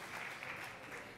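Audience at a live vegan cooking demonstration claps steadily in a short burst of applause, fairly close and fairly quiet, with no talking over it.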